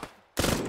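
Machine gun fire in the Arma 3 video game, a quiet lead-in followed by an abrupt, loud, sustained burst of rapid automatic shots lasting to the end.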